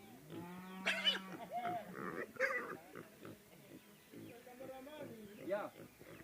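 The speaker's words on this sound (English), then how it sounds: "You're gonna hear the sound of the pigs" Pigs grunting and squealing nearby, a mix of low snorts and higher-pitched cries, with a voice speaking over them.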